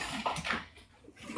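A pet dog whines in short, thin bursts, a couple of rising whimpers close by with a faint clatter in between, and no talk over it.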